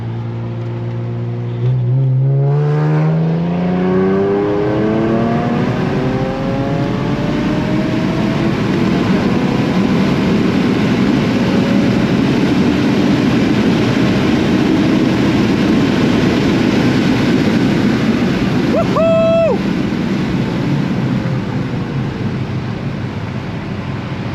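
A tuned Infiniti Q60 accelerates hard at full throttle through third and fourth gear on a street run, with a loud, sustained engine roar that climbs in pitch, drops briefly at a shift, then climbs again.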